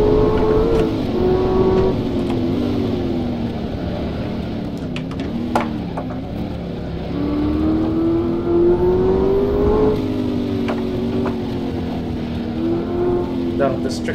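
A race car in the rFactor racing game, its engine whining and revving steadily as it rises through the gears and dips for corners, loud and continuous throughout.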